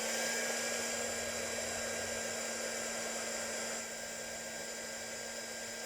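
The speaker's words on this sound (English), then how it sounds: "get the embossing gun on again" An embossing heat gun blows with a constant loud whooshing roar and a steady high whine, running continuously throughout.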